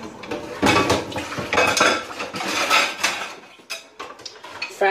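Kitchen utensils clatter and clink as someone rummages through a drawer for a spatula, metal cutlery and pans knocking loudly and continuously with irregular bursts.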